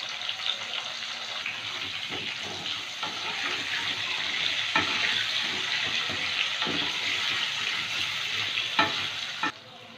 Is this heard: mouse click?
no